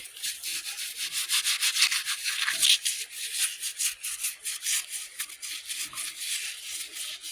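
A dirty artifact, a white Burlington planter, scrubbed with sand, producing a continuous gritty rubbing and scraping in quick back-and-forth strokes, close and fairly loud with no talking.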